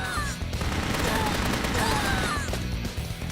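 Gunfire from the video game Metal Assault, a Metal Slug–style shooter, comes as dense, continuous volleys of loud shots, with whistling sweeps cutting through the barrage.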